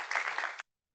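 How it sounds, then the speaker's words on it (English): Audience at a health equity symposium applauding speakers and panelists, a short dense wash of clapping that cuts off abruptly after well under a second. "Can I get another round of applause for all of our speakers and"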